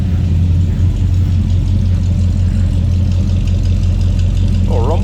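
A 1956 Mercury Montclair with its 312 V8 idles at the rear, a deep, steady throaty rumble from the exhaust up close, with a brief voice near the end.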